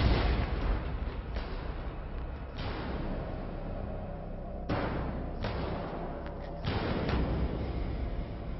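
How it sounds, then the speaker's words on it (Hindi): Gunfire along the Jammu and Kashmir border with Pakistan rings out as a series of sharp distant bursts and thuds over a rough, rumbling background, spaced irregularly with several separate shots. "जम्मू कश्मीर में पाकिस्तान से लगी सरहद पर पिछले 4 दिनों से जारी फायरिंग रुकने का नाम नहीं ले रही।"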